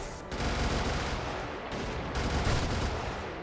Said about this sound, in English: I'm just gonna kill these things as they come around the corner with my automatic guns